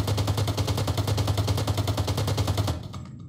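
An AUG rifle fires on full automatic in the video game Rules of Survival, a loud, rapid, evenly spaced stream of shots lasting under three seconds before cutting off.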